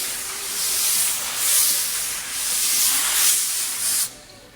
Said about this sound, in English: just a very light rub over the first coat of lacquer. Virtually always with the grain, not across the grain, not in circles